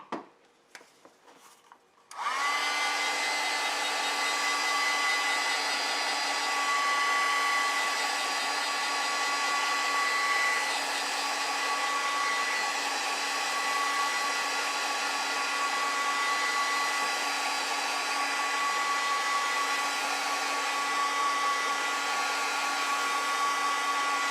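A hair dryer switches on after a brief rustle and blows a steady, loud whir for over twenty seconds, drying wet watercolor paint on a poppy painting.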